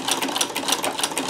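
Sewing machine running with a Davis vertical feed scallop plaiter attachment as fabric is fed through by hand, a fast steady rhythmic chatter of the needle, close and fairly loud without pause.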